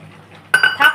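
Lentil dumplings (bori) drop into a pot of pumpkin and coconut curry, a few quick close clinks and knocks in the second half after a quiet start.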